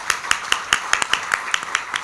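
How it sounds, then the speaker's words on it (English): A small group applauds for investors on a bank's earnings conference call, with about ten regular, evenly spaced claps that sound close and fairly thin, heard on their own. "I'll request my team to acknowledge by way of an applause for all"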